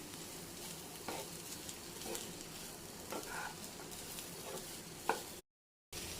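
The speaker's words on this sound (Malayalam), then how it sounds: "ഇനി ഒന്ന് ഇളക്കി കൊടുക്കണം." Kerala-style cauliflower thoran is stirred in a pan, a soft sizzle and frying hiss running steadily with occasional scrapes of the spoon, close and fairly quiet.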